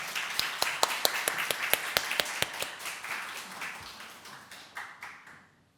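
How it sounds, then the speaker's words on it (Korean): A congregation at a Sunday church service claps in encouragement: a handful of distinct, sharp hand claps in quick rhythm at first, thinning and fading into scattered softer claps before dying away. "우리 다시 한번 박수로 격려하겠습니다"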